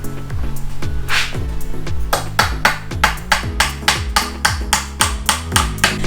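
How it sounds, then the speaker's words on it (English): Hammer blows driving straight nails into the corner of a wooden planter box, a steady series of loud, sharp strikes in quick rhythm, close by and with no talking. "I'm going to nail one corner piece to the sides"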